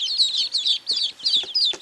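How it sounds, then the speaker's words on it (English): A group of baby ducks peep in quick, high, repeated bursts, close by and fairly clear, with soft shuffling underneath. "Baby ducks."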